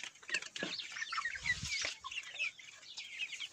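Chicks and young hens, including Leghorns, cluck and chatter continuously, several birds overlapping with busy, rapid calls, fairly close and steady throughout.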